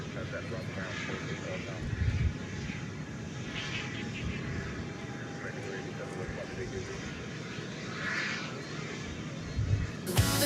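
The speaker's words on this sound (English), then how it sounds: "planes are in the air." Airplanes fly over DFW Airport at night, giving a steady, distant jet-engine rumble and roar that runs under continuous talking.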